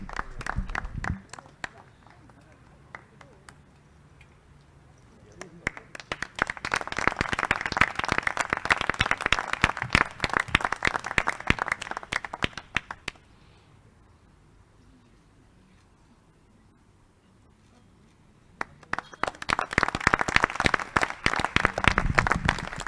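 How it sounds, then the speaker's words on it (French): Applause and clapping at a municipal council installation session in Bègles, coming in separate bursts: a short spatter, a long loud round, a quiet pause with faint murmur, then another burst of clapping. "On peut applaudir."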